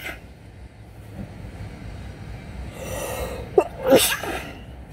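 A single sharp sneeze bursts out near the end, loud and close, after a few seconds of quiet rumbling background.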